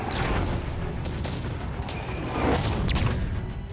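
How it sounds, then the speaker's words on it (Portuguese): Gunfire in the Halo 5 shooter game on Xbox One rattles continuously, loud and close, with dense rapid shots and a couple of heavier reports, no talking over it. "Toma lá, um tiro em cada braço."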